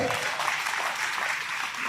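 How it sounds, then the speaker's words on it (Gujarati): Audience applause at a Manav Seva Charitable Trust program in Bhavnagar, a dense, steady roomful of clapping mixed with voices, held for the whole two seconds. "એમના માટે તાળીઓનો ગળગડા"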